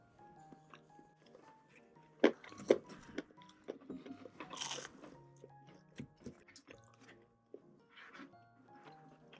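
Close, quiet bites and crunches of fried sweet and sour pork from a Chinese takeout set. The crisp crunches come in short bursts between chewing noises, with little background sound.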